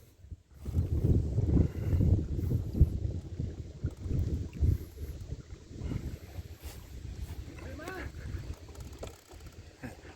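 A Mercury 40 jet outboard on a Tracker Pro 170 boat reversing across the water, a steady low engine rumble with water churn and some wind buffeting on the microphone.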